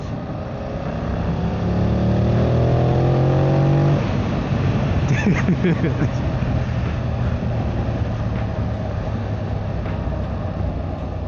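A 2025 Yamaha MT-07 with Y-AMT automatic transmission accelerating hard, engine note rising through the gears with a shift partway through, then a steady loud roar and wind rush throughout.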